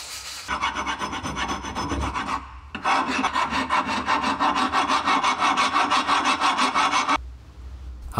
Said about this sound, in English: I went back to my tried and true method of just using sandpaper.